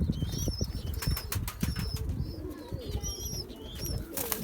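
Young homing pigeons flap their wings in quick close bursts, with soft coos and chirps from other birds around them.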